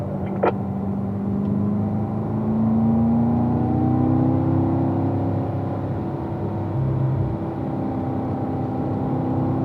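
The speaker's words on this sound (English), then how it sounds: "Squeeze onto your throttle right here." A car engine picks up as the throttle is squeezed on a corner exit, a steady mid-pitched drone that climbs gradually in pitch, heard up close from inside with no talking.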